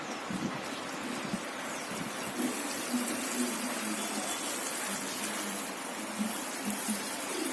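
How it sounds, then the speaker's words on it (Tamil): Water is poured from above onto soil over freshly sown coriander seeds. It gives a steady close-up gushing trickle that runs continuously, with faint low thumps of the stream hitting the earth and no talking. "மேலே கொஞ்சம் தண்ணி ஊற்றணும்."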